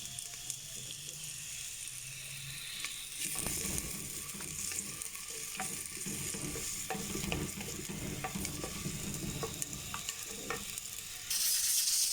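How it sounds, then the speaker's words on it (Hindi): Sliced onion sizzles and crackles in a hot pan with ginger garlic paste, a steady close frying hiss broken by frequent scraping stirs of a utensil. No one speaks. "ये देखिए जी, प्याज फ्राई हो रहे हैं।"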